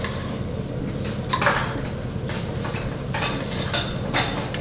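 Spoon mixing garlic cloves and other taco ingredients in a bowl, a continuous scraping and clinking with a few louder knocks against the sides, close and fairly loud, with no talking.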